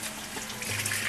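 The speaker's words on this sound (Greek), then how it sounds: "Τις πλένουμε καλά κάτω από τη βρύση, αποτρεφούμενο νερό." Tap water runs steadily into a kitchen sink as red shellfish are rinsed under it, a soft continuous splashing hiss with no talk.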